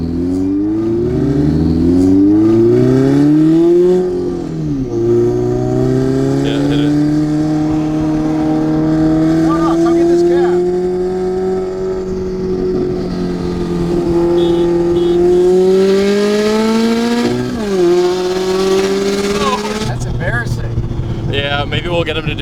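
A turbocharged Toyota GR86 and a Toyota Supra accelerate hard on the road. Loud, close engine notes climb and dip across several gear pulls, with a second car's tone underneath, and people talk over the noise.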